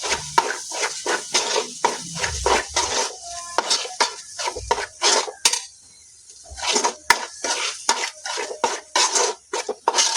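Pepper chicken being stirred in a pan, a rapid series of close metallic scrapes and clanks from a spatula against the pan over a light sizzle, pausing briefly midway before resuming.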